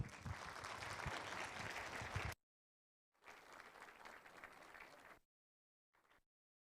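A church seminar audience claps to welcome a visiting pastor, a dense burst of applause that cuts off, returns in a second wave, then a brief final patter.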